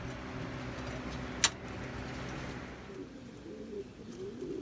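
Pouter pigeons coo softly at their coop, low murmuring calls near and far with a sharp brief click, over faint distant traffic.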